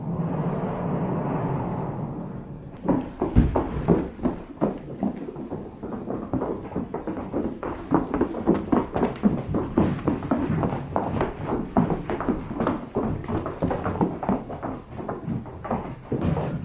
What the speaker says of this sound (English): you wouldn't even know I just let a bunch of horses in here.